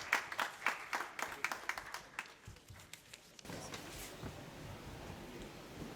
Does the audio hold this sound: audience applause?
yes